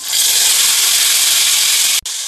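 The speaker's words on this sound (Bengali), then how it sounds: "এবার খানকুনির শাকগুলো দিয়ে দেবো।" Thankuni (Indian pennywort) leaves drop into hot oil already frying with a little black cumin, giving a loud, steady hiss of sizzling that cuts off sharply near the end.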